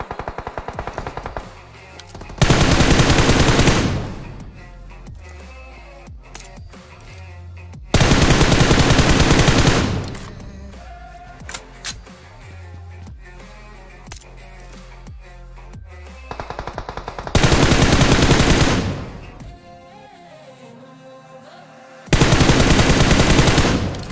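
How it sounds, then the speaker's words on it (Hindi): Long bursts of rapid automatic gunfire in a battle royale shooter video game, loud and close, in four separate volleys with quieter game sounds and background music between them. "मुश्किल से इतनी सारी गोलियां मारी है मैंने।"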